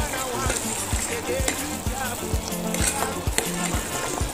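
Coconut milk and cornstarch caramel mixture stirred in a pan over medium heat, steady bubbling sizzle with rhythmic scraping strokes repeating about every half second, close, with a voice talking faintly beneath.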